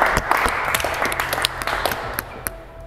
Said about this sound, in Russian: Аплодисменты, конечно.